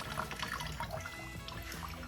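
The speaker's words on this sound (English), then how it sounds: "So we just let that old rusty water drain for a while." Old rusty water drains out of a table in a workshop, a steady trickling and dribbling stream that runs continuously for a couple of seconds at moderate level with no talk.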